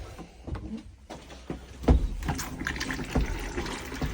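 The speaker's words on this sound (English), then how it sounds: "You now pump the water around as you flush." A cassette toilet in a Carthago C-Tourer motorhome flushes with pumped water, a close gurgling, splashing trickle with pump whir and a few knocks, no talking.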